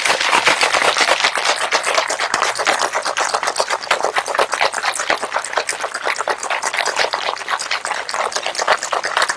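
Crushed ice rattles hard and fast inside a sealed cocktail shaker mixing a Mai Tai, a dense continuous clatter that runs steadily from start to finish with no talking.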